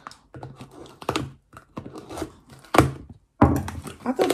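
A knife chopping at home, a series of sharp, irregular thunks and taps close by, with bursts of busier cutting and brief pauses between strokes.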